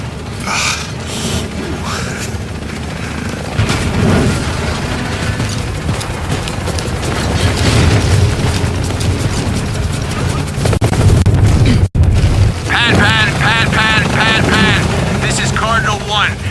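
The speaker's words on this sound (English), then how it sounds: "Engine stall at 500 feet." A helicopter engine stalls in the video game Shadow of the Tomb Raider, with loud continuous rotor and engine roar, rumbling impacts and turbulent noise. A voice can be heard calling out over it.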